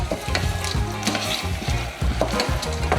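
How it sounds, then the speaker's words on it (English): Sweated vegetables and peas are stirred in a pot, giving a close, soft sizzle with repeated scraping and shuffling strokes and no talking. "now I'm gonna give these a stir"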